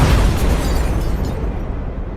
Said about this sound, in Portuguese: Uma explosão gigantesca que chega a arrastar o terreno e jogar escombros para todo lado.